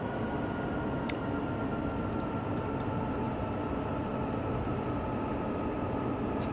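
A train rolling over the crest of a grade, with a steady loud rumble of wheels and cars, a few brief high squeals on top, and no voices.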